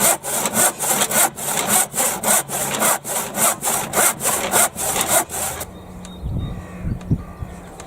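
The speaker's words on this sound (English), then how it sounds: "I've got a lot of sawing to do" A handsaw cuts through wood for garden fence and deck work, with a fast, regular back-and-forth rasp of about a dozen strokes before stopping, followed by quieter outdoor background and faint birdsong.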